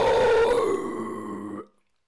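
A low, guttural black metal growl vocal, a single rough exhalation held for about a second and a half, close to the microphone, then cutting off to silence.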